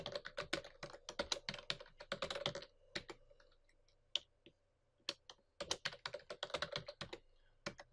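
Someone types on a computer keyboard in quick bursts of crisp clicks, with short pauses between runs of keystrokes, close and alone in a quiet room.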